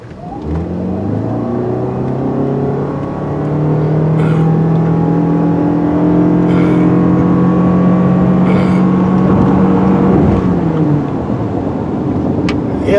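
A 2022 Toyota Sienna Hybrid van drives and accelerates with a steady engine drone whose pitch climbs and holds. The sound is continuous and fairly loud, with road noise underneath and no talk.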